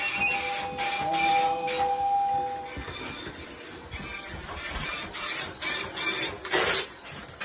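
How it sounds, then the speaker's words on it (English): At Blackpool Fire Station, a dedicated printer churns out emergency call information, a steady mechanical whirring and paper-feeding rasp with brief clicks and shuffles, close and unaccompanied by speech. "a really special printer that prints out the paper with all the information on about the emergency that we need to go to"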